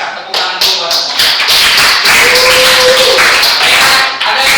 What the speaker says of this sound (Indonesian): Luar biasa, tepuk tangan dulu buat semua